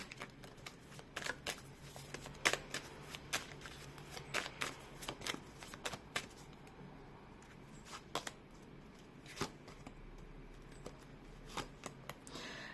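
Tarot cards being shuffled and laid down, a series of crisp riffles and soft slaps at irregular intervals in a quiet room, no talking.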